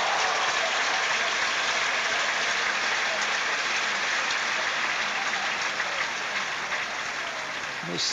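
A tennis crowd applauding at a match between Chang and Edberg, a dense, continuous wash of clapping that fades slightly toward the end.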